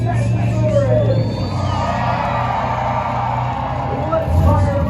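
A crowd cheers and whoops at a Toughest Monster Truck Tour show in Lamar, Missouri, a loud, steady roar of many voices with engine rumble beneath and an announcer talking over it.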